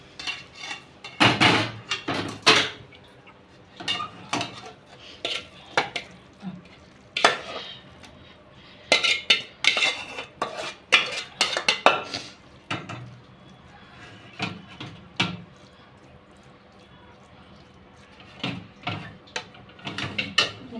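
Prawn pakoda gravy being served: metal utensils clink and scrape against pots and plates in scattered bursts, close and fairly loud, separated by quieter pauses.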